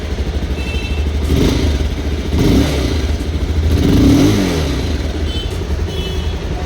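An old Bajaj Pulsar 220F motorcycle engine idling loudly up close, then revved a few times in short swells before settling back to a steady rumble.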